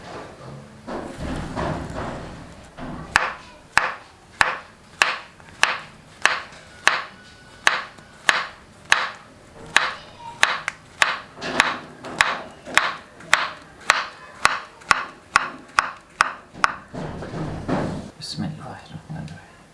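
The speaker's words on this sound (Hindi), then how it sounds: "अभी केले को साइडों से काट के छील लेंगे" A knife slices down the sides of a banana as it is peeled for fruit chaat, making a long, evenly spaced series of crisp taps against a board, close and distinct, with quiet handling before and after.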